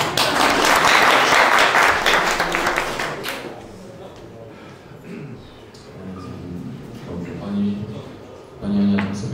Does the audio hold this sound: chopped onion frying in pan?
no